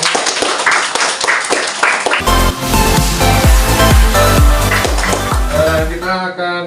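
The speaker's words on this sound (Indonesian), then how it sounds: "Anak sekalian tepuk tangan dulu." A group of schoolchildren claps hands in a classroom, first a ragged spatter of claps, then loud, fast, rhythmic clapping in unison, with a few voices over the top.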